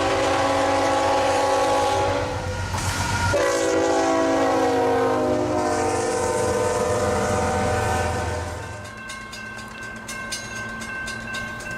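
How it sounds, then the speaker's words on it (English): An auto rack train led by a Union Pacific Tier 4 Gevo diesel locomotive passes at Folkston, Georgia, its loud sustained horn blast over engine roar, then rolling cars with a rhythmic clickety-clack fading as it goes by. "Here we have Q237, an auto rack train led by a Union Pacific Tier 4 Gevo number"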